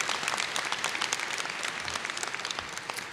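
An audience in the hall at the Indiana University School of Dentistry 2019 graduation claps steadily for the graduates. The dense, even applause stays fairly loud and close for about three seconds, with no voices over it.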